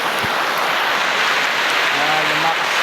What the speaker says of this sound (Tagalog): Babasahin tayo ng ulan mga tol ah.